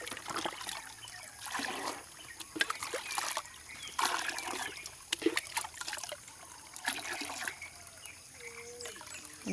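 Water from a mountain spring trickles and splashes steadily and close by, with a soft, continuous dribbling flow and occasional louder splashes.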